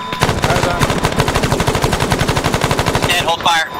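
Coaxial machine gun on an armored vehicle in a combined-arms military video game, firing a long steady burst of rapid rounds close and loud, with brief radio-style chatter near the end.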